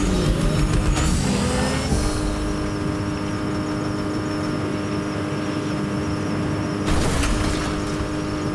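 A car drives in the video game Fortnite, a steady loud droning engine hum with brief revving surges near the start and again toward the end, continuous and without talking.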